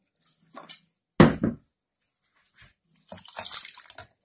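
Half a cup of water goes into sugar and honey for a syrup for Tatar baursaki. A sharp clatter comes first, then a short, close splashing pour, with quiet gaps between.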